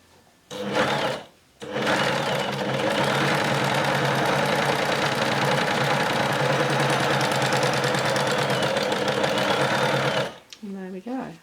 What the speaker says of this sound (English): I'm just going to start stitching again really carefully and trying to manoeuvre the fabric